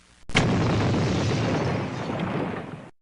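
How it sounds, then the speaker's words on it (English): A loud, sustained explosion from a film rumbles and roars for nearly three seconds after a sharp onset, then cuts off abruptly. "Didn't you hear that explosion?"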